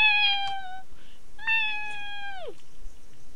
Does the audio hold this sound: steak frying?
no